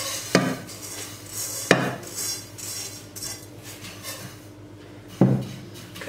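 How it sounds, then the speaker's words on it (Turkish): A metal spoon clinks against a dish while spreading muhallebi milk pudding, three sharp, separate taps over a quiet background, with no talking. "Kaşık yardımıyla yayıyorum"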